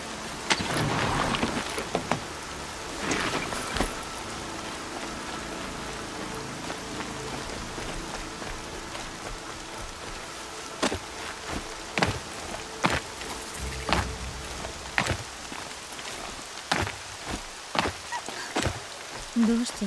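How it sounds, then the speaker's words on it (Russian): Rain falls steadily in Horizon Zero Dawn, a soft continuous patter with scattered sharper drops and clicks, moderately close, with faint talk underneath. "Дождь, это неплохо."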